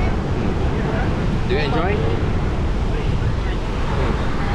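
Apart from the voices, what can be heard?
strong wind and ocean surf at a Bali beachfront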